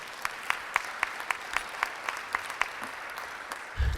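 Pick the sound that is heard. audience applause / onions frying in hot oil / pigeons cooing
audience applause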